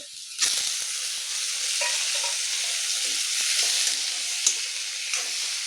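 Chopped onions fry in a pan for a kuiler saag greens dish, giving a steady, close crackling sizzle with a few soft clinks and taps scattered through it.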